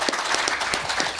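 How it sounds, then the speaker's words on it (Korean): Applause from an audience welcoming a professor to speak at an economics seminar on the 2024 global trade and East Asian economic outlook, dense and steady clapping heard in a short burst. "그러면 여러분 우리가 박수로 후쿠카 교수님 모시도록 하겠습니다"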